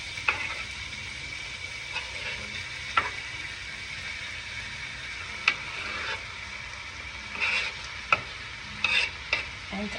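A soft, continuous sizzle of ground meat frying in a pan, with occasional scrapes and taps of a spatula stirring it. No one speaks.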